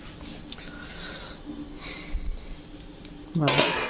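A metal pot lid clatters onto a pan while Algerian baghrir semolina crêpes cook, a sharp ringing clank near the end after quiet kitchen rustling.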